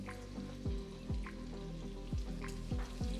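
Speckled trout fillets blackening in a pan with butter and oil. A steady soft sizzle sits under repeated rhythmic low thumps and faint spatters, fairly quiet and close, with no talking.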